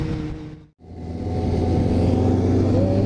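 Kawasaki Z 750 2010 motorcycle riding on a track, its engine droning loud and close with a steady strong tone; a brief dropout near the start, then the engine pulls on with rising intensity.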